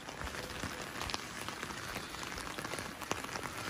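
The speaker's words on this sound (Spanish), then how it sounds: "Esta es la primera lluvia que está cayendo aquí." Rain falling in the countryside at dawn makes a faint, even patter with scattered drop ticks and no voices.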